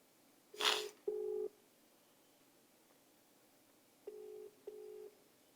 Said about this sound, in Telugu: ఒక్కసారి ఫోన్ చేద్దాం.